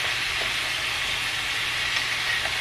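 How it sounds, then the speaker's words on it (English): Onions hit a hot pot and sizzle steadily, a loud, dense, continuous frying hiss heard up close with no pauses and no talking. "So in go the onions."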